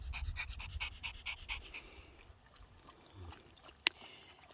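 A dog pants rapidly and rhythmically close by, loud at first and then softer, with a single sharp click near the end.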